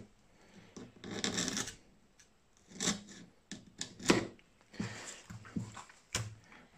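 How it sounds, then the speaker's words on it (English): A sharp knife scores the rough, sandpaper-like skin on the underside of a dogfish, giving quiet scraping rasps in short separate bursts with pauses between. "is to score the skin on the underside. And even with a sharp knife, it's not easy"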